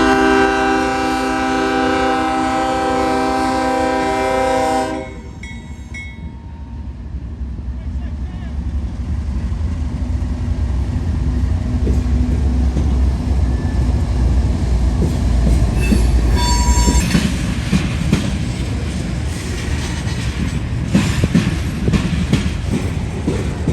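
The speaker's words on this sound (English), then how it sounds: "This train is coming out of Upper Sandusky, Ohio, and will go down to Mobile, Alabama." A freight train heading from Upper Sandusky, Ohio toward Mobile, Alabama sounds a loud sustained horn blast, then rumbles past close and steady for a long stretch, with a brief second horn note later, in Marion, Ohio.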